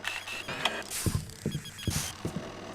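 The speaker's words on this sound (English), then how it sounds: "The other doors can be opened." A door mechanism in the video game Thief 2 grinds open with a series of ratcheting clanks and creaks, four or five mechanical thunks spaced about half a second apart, close and fairly quiet.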